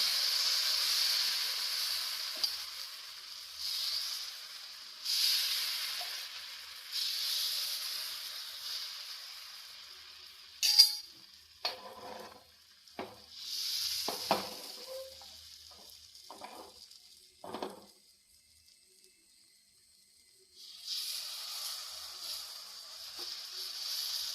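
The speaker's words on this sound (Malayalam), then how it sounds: "നമ്മൾ നോൺ സ്റ്റിക്കിൻ്റെ ഒരു പാൻ അടുപ്പത്ത് വെച്ചിട്ടുണ്ട് ഇത് ചൂടായി വന്നിട്ടുണ്ട് ഇനി നമുക്ക് ദോശമാവ് ഒഴിച്ചു കൊടുക്കാം" Neer dosa batter poured onto a hot non-stick pan: a steady hiss and sizzle that swells and fades in waves, broken midway by clinks and scraping before the frying hiss returns.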